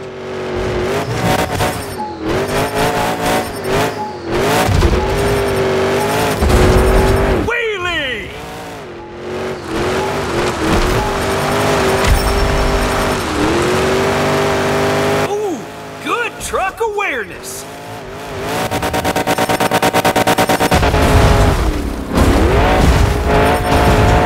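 Monster truck engine in the Monster Jam Showdown video game, loud and continuous, with revving swells, a few dips and booming impacts, under an announcer's excited commentary.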